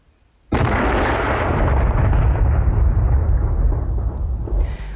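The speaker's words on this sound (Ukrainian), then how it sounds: "Потім контрольовано електричним засобом підриву знешкодили" A sudden loud explosion from the controlled electric detonation of unexploded warheads erupts after a moment of quiet, followed by a long, heavy roaring rumble that persists for several seconds.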